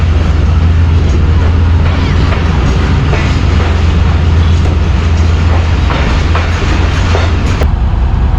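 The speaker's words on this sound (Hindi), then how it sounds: "सफदराबाद रेलवे स्टेशन पर शालीमार एक्सप्रेस खड़ी है" The Shalimar Express stands at Safdarabad railway station on a single-line track, giving a loud, constant rumble with rail clatter throughout and faint voices in the background.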